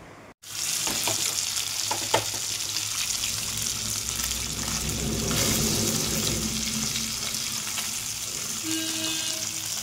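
Fish sizzles and spits steadily in a hot frying pan, a continuous close crackle with a few light clinks from a utensil near the start and no voices.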